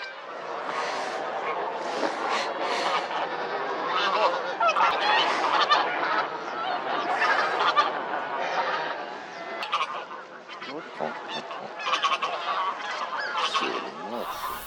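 Bean geese honk continuously from lake shallows, a dense overlapping chorus of many birds calling at once, steady and fairly loud throughout with no pauses.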